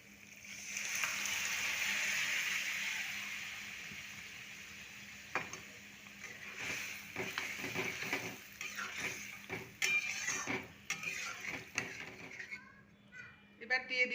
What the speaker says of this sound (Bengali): এবার দিয়ে দিচ্ছি সেদ্ধ করা ছোলা